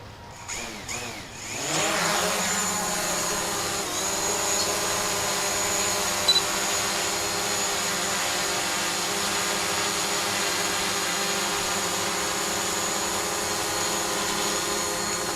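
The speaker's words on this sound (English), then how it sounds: "Test flight with 3 broken propellers." DJI Mavic Pro drone spooling up and hovering on three broken propellers, a sharp rising whine that settles after a couple of seconds into a steady, loud, buzzing multi-tone hum lasting the rest of the clip.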